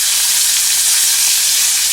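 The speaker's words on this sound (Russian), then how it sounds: "Да, пока жарится, подрумянится с одной стороны." Pollock fillets frying in a pan, giving a loud, close, continuous crackling sizzle with a dense hiss and no voices.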